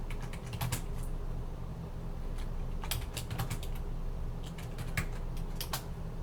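Rapid keystrokes on a computer keyboard entering commands for a software install on a virtual server, irregular bursts of clicks over a steady low background hum, close and clear.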